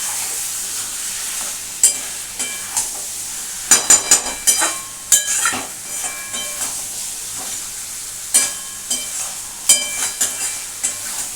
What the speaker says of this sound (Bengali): এটাকে একটু আলুর সাথে ভালো করে নাড়াচাড়া করে নিতে হবে।